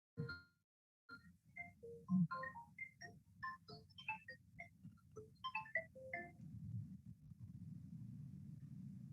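Mobile phone ringtone going off during a church sermon, a rapid melodic run of bright electronic notes over a low steady hum, fairly quiet and alone without speech.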